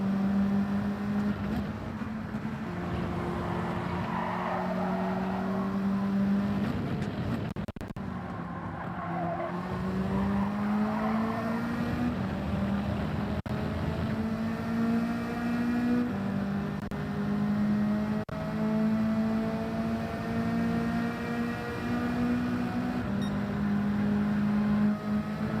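A race car in Gran Turismo 7 held on throttle, its engine droning loudly with harmonics that climb and drop through repeated gear changes over a long stretch, with occasional tire squeal and no talk.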